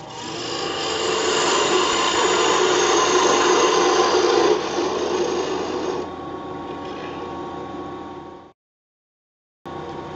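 A gouge cuts a cross-grain wooden box turning on a lathe, a loud steady rasping hum of tool on spinning wood that drops in level partway, then cuts off into a brief silence before resuming.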